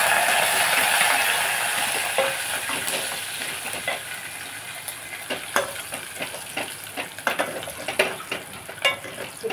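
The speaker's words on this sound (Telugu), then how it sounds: "ఎండుమిరపకాయలు, ఆవాలు, జీలకర్ర, కరివేపాకు వేసుకోండి." Dried red chillies, mustard seeds, cumin and curry leaves crackle and sizzle in hot oil for a tempering, loud and steady at first and then breaking into sharper spitting pops near the end.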